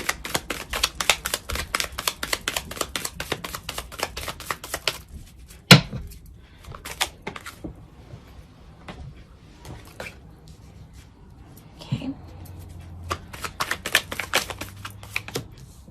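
Rapid, crisp tarot card shuffling in repeated bursts, riffles clattering close by with brief quiet pauses and a sharp tap between runs.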